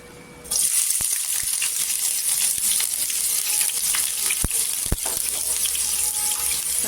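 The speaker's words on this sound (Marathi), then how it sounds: "तेल छान असं गरम झालं पाहिजे आणि इथे आहे ना आपण कांदा टाकायचा" Onion goes into hot oil in a pan for a cauliflower vegetable dish. After a short quiet start, a loud, bright sizzle bursts in and holds steady, with a few sharp clicks and taps scattered through it.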